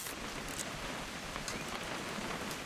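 Rain falls in a video game as a faint, steady hiss of drops pattering on surfaces, with a few brief brighter splashes and no other sounds.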